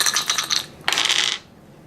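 Four dice are rolled together for a board game, two quick clattering bursts of hard dice tumbling and rattling on a table, close and fairly loud, settling to quiet.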